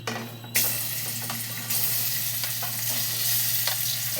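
Pieces of gati kochu (taro) hit hot mustard oil in a pan, setting off a sudden loud sizzle that keeps crackling and bubbling close by, with small stirring clinks.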